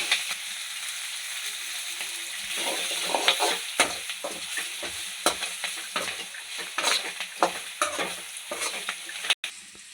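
Steady hiss and crackle of green chillies frying in hot oil, with occasional louder pops and spoon scrapes stirring the pan, close up.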